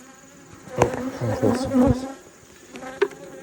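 Dense buzzing of many bees in a hive box during a hive inspection, close by, a steady insect drone with a brief spoken remark over it.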